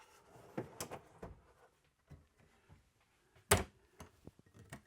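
Soft sliding rumbles and knocks of a full-extension drawer in a 2024 Newmar Mountain Aire 4551 motorhome moving on its runners, ending in a sharp thud as it shuts, followed by light clicks.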